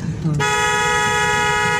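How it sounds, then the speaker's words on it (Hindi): A loud, sustained car horn blares close by on a single-lane road after a brief moment of background noise, holding one steady tone to the end. "और जो आप ये हॉर्न बजा रहे हैं, ये गलत तरीका है हॉर्न बजाने का"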